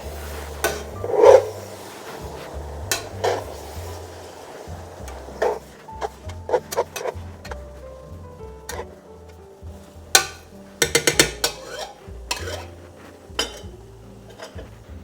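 Pork is stirred lightly in a pot on a stove, giving a scattered series of sharp clinks and scrapes of a utensil against the pot, some louder knocks, and quiet gaps between, with a faint low hum underneath.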